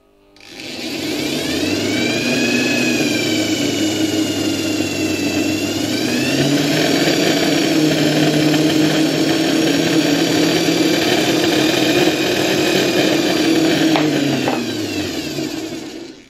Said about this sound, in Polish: Silnik w tej chwili działa bardzo głośno, bo ten blat strasznie rezonuje